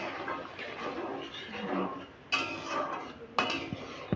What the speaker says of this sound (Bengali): অল্প একটু জল অ্যাড করে এটাকে ঢাকা দিয়ে দেবো যাতে আলুটা সেদ্ধ হয়ে যায়